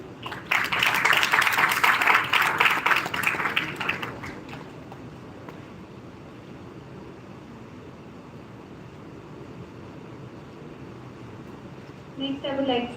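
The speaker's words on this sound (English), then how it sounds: "A big round of applause, everyone." Audience applause at a conference session, a loud burst of clapping in the opening four seconds that fades into quiet room tone, with a brief return of noise near the end.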